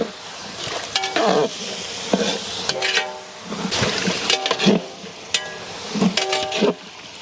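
Whole brinjals (eggplant) stirred in a pot for a biryani-style brinjal dish, with a spoon clattering against the metal in bursts over a steady sizzling simmer, close and moderately loud.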